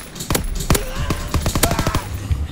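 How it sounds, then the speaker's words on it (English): Rapid bursts of gunfire crack through a World War II battle in Call of Duty: WW2, a dense string of sharp shots over a steady game background. No one speaks. "What is he shooting at?"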